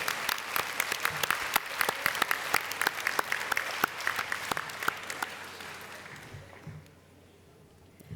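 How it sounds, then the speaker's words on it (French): The audience at a CFDT-Services union congress applauds warmly, a steady wash of clapping from a large hall that fades away near the end. "Merci donc de les applaudir chaleureusement."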